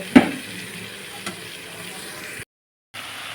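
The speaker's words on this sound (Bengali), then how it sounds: "আমি বড়িগুলো এখন থেকেই দিয়ে দিয়ে আর একটু নাড়াচাড়া করে নিচ্ছি" Lentil dumplings (bori) are stirred into spinach in a frying pan. A soft, steady sizzle runs throughout, broken by a couple of quick utensil knocks against the pan and a brief silent gap.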